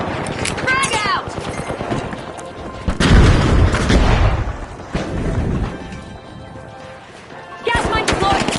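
Heavy booms and gunfire erupt in a frantic match of the shooter game The Finals, with a grenade blast around the middle and rattling shots, while game voices shout over the chaos.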